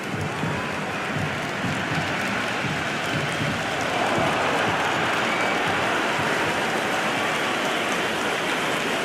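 Dense, steady roar of a large cricket crowd in Cricket 26, a continuous wash of cheering and applause-like noise holding at an even, loud level throughout with no pauses.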